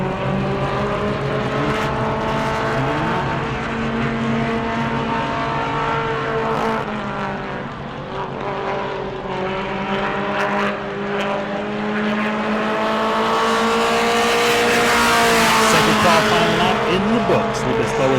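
Four-cylinder mini mod race cars lap during qualifying at New Smyrna, their engines droning loud and steady throughout, pitch sweeping up and down as they pass, with a commentator talking over them.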